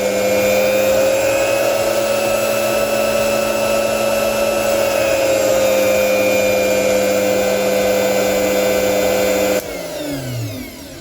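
A repaired electric motor on a milk cream separator runs with a loud, steady whine that holds one pitch for several seconds, then drops and slows toward the end, with no voices.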